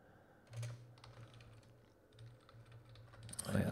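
Computer keyboard keys clatter in a steady, close run of soft clicks during a coding session, fairly quiet, with a brief louder burst of handling noise at the end.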